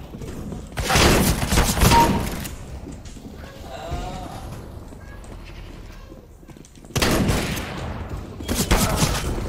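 Bursts of gunfire in a video game played on GeForce Now, two loud broadband volleys at the start and near the end with quieter game ambience between.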